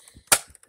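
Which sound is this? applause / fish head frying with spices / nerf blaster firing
nerf blaster firing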